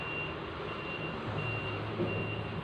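A truck's reversing alarm sounds a steady, repeating high beep, moderately distant, over a low engine rumble.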